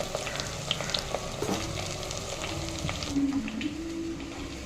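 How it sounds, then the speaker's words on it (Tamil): Onions sauté in a pan with a gentle steady frying hiss and a few light stirring knocks, close by with no voices. "நல்லா இந்த அளவுக்கு நல்லா வெங்காயம் வதங்கணுங்க"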